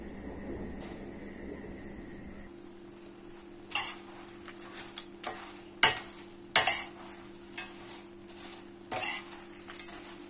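Food sautéing in a pan on a home stove, a low steady sizzle carrying several sharp clinks and scrapes of a utensil stirring against the metal, with no one talking.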